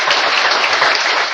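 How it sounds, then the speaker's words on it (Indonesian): An audience applauding at a public speaking event, a dense, loud, steady burst of clapping from many hands throughout. "Oke, tepuk tangan untuk Luna."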